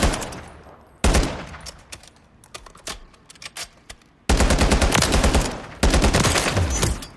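Mark 17 CQC gunfire in Call of Duty Modern Warfare III: long, loud automatic bursts and shorter volleys of rapid shots, with brief pauses between them and no talk.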